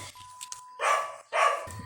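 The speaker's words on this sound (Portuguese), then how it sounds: "Vai sair o latido desse cachorro." Two loud dog barks in quick succession, each short and sharp, over a faint steady tone with quiet background noise between.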